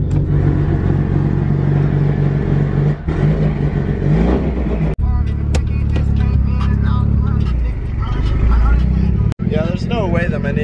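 A 460+ HP Mitsubishi Evo 9 accelerates hard on the road, its engine roaring loudly and climbing through revs with gear changes, while voices shout and talk over it.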